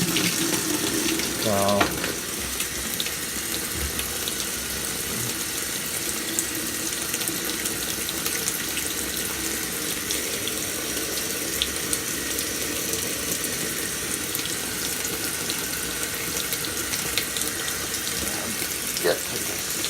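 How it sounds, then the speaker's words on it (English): A GE GTW680BSJWS washing machine running its tub clean cycle flushes water through the softener dispenser, a loud steady rush of running water throughout, with a brief spoken word near the start. "So it starts off with a softener dispenser flush."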